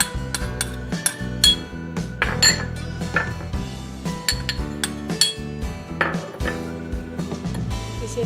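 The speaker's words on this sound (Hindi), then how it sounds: "इसमें मैं सारी चीज़ें डाल के इसको मिक्स कर लूँगी" French fries tossed with dried chili and salt in a bowl, a dense run of clinking, scraping and rattling as a spoon or utensil works through the food, steady and close with no talking.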